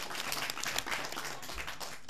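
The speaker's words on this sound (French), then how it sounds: "On applaudit très très fort." Group of schoolchildren clapping for a classmate in a children's circle, a short, uneven burst of small-hand applause at moderate level with scattered voices mixed in.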